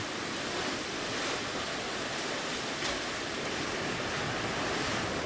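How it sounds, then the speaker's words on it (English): Waves crash continuously against a sea arch at Portreath, Cornwall, a loud, steady roar of surf with wind buffeting close by. "So at the moment the waves are just crashing into this."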